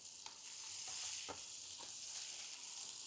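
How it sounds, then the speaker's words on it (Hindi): Garlic, ginger, green chilli, cumin and fennel sizzle steadily in hot oil in a pan for Singapore-style fried rice, with a few faint stirring clicks over a continuous close hiss and no talking. "हिंग, चॉप केलेला लसूण, चॉप केलेले अद्रक, हिरवी मिरची व्यवस्थित आपण फ्राय करून घेऊया।"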